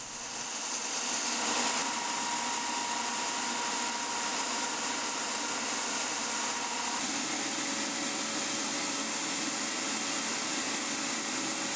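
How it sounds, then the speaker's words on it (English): A belt sander grinds down thick knife handle scales while making a compact fixed-blade knife, a steady loud broadband whir holding throughout with a slight drop in low rumble partway through, no voices. "I took them to the belt sander and took them way down"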